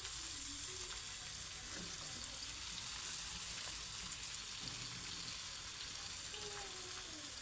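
Cut cabbage hisses and sizzles in a pan of frying onions for a cabbage tomato curry, a steady soft crackle with faint occasional clinks, heard up close.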